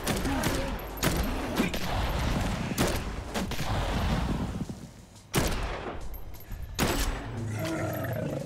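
Gunfire erupts during a zombie fight in Dead Island 2, with sharp shots scattered over about eight seconds amid a busy, loud game soundscape, two of the bursts standing out louder near the middle and end.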